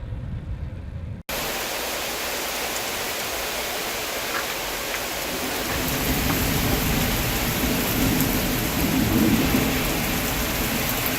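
Heavy rain and thunder from a thunderstorm during a motorcycle ride under a tornado warning, loud dense hiss with a deep rumble swelling midway, after a brief quieter opening.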